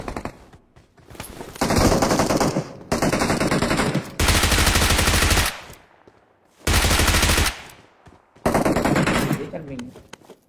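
Bursts of automatic gunfire in PUBG Mobile crack out in several long sustained volleys separated by short gaps, loud and dense, with a few quieter single shots between them.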